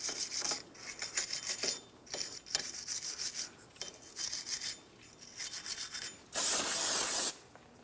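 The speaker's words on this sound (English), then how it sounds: "Use some parts cleaner and a wire brush." A wire brush scrubs the wheel bearing hub surface of a 2004-2008 Pontiac Grand Prix during front hub replacement. The scrubbing comes in short, repeated raspy bursts close to the mic, then ends with one louder sustained burst.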